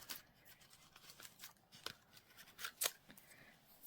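Scissors cut paper for a junk journal page, a string of crisp, irregular close snips separated by short quiet gaps.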